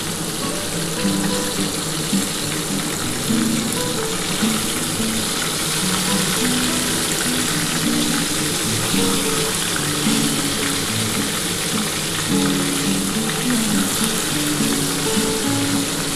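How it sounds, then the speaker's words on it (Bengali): Tilapia fish pieces fry in hot oil, a loud continuous sizzle and bubbling crackle from close by that holds steady without pause. "যে কটা বাকি থাকবে আমি এইগুলো ভেজে তুলে নেব"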